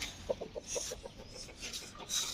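A native country hen clucks softly in a short series of low, evenly spaced notes, with faint outdoor background noise.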